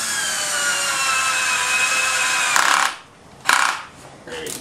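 A power drill drives screws into the supports of a homemade grind rail: a close, high motor whine runs for a few seconds, then cuts out and returns in short bursts.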